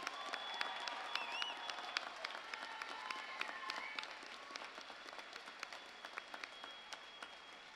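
Applause from a graduation audience at a community college commencement, sparse and scattered claps with distinct nearby hand strikes, moderately quiet and gradually thinning out, a few voices faint in the background.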